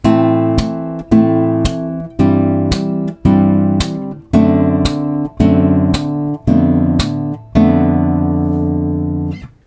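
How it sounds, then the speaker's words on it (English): Guitar strums a repeating chord progression with percussive thumb slaps, each chord struck sharply and left to ring in an even rhythm for about ten seconds, with no talking. "So first what we're going to do to try and just get the slap motion is we're going to put this behind a little chord progression"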